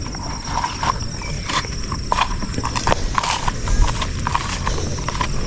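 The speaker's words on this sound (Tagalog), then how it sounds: "Ayun, hila-hila na niya yung aming kalabaw." A carabao being pulled along on a Philippine farm walks with steady, close clopping hoof steps and a faint creaking, rattling pull, with no talk.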